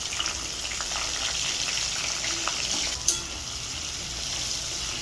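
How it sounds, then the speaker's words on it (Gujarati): Cumin seeds tempering in hot oil for a stuffed eggplant dish, a steady close sizzling hiss with a brief sharp crackle near the middle, continuous with no talking. "હવે આપણે ગરમ તેલમાં જીરું નાખીશું, થોડી હલ્દી અને મરચું નાખીને આપણે આ રીંગણા વઘારી દઈશું।"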